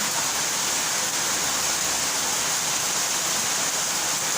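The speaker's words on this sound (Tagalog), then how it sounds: "Sobrang lakas ng ulan." Heavy rain pouring down hard, with rainwater cascading down an outdoor staircase like a waterfall, a dense, loud, unbroken hiss that stays constant throughout with no talk.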